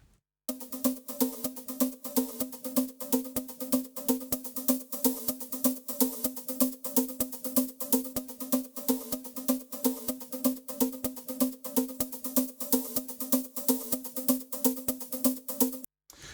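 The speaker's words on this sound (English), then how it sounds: "I'm going to just solo it by punching in this high shelf EQ." Audio soloed through a Logic Pro X high shelf EQ, a thin, fizzy, airy signal with a steady rapid rhythmic pulse running throughout and a small click at the end.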